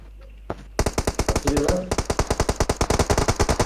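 Automatic gunfire in the mobile video game PUBG Mobile: a single shot, then long rapid bursts of loud, evenly spaced shots, with a brief voice heard partway through.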